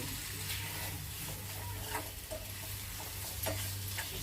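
Finely chopped small dried shrimp sauté in masala, making a soft, steady sizzle with faint ticks and occasional light scrapes of stirring throughout.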